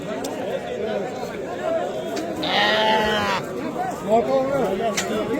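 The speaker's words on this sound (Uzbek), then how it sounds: "Qo'zilar." Lambs and pedigree sheep bleat repeatedly in a flock, with overlapping calls under steady human chatter and talking nearby.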